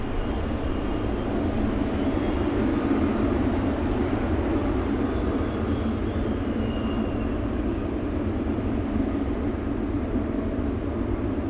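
A Douglas DC-3 at Anchorage airport on a windy day gives off a steady, continuous engine roar. The drone stays loud and even throughout, with no speech over it.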